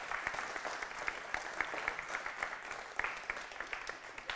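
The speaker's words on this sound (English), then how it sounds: "let's give them a round of applause" A room of trainees applauds at a home security sales training rally, with continuous clapping and sharper individual claps popping out in an uneven rhythm at a fairly close, steady level.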